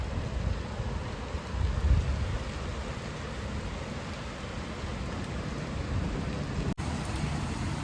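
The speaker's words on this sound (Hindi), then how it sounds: "अभी खूब तेज़ बारिश हो रही है" Heavy rain pours during a hot monsoon day at home, a dense, steady roar of falling water with a low rumbling undertone, continuous and fairly loud with no talking.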